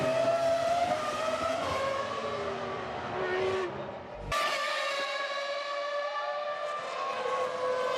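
A 2001 Formula One car at Monza screams past at high revs, a loud sustained whine with a sharp pitch drop as it passes close, then another car's engine howling on.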